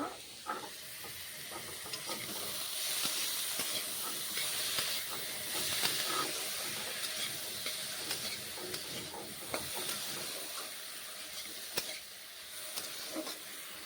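Food frying in a pan with a steady, broad sizzle and hiss throughout, broken by scattered clicks and scrapes of stirring, moderately loud and without talk.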